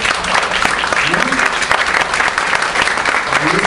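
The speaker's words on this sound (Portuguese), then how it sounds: "uma salva de palmas aqui para o nosso companheiro" A seated debate audience breaks into loud, dense applause for a companion on his birthday, the clapping sustained throughout with a voice speaking over it.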